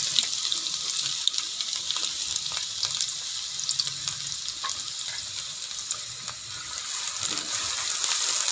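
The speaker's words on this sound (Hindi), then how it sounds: "घी में सबसे पहले प्याज डालें" Onions frying in ghee give a continuous soft sizzle with faint crackles and occasional stirring scrapes, steady and fairly quiet throughout.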